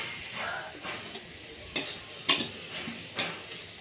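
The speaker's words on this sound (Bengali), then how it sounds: "পেঁয়াজটা আমার ভাজা হয়ে গেছে" Onions fry in a pan with a quiet, steady sizzle, interrupted by three sharp clinks of a utensil scraping and stirring against the metal.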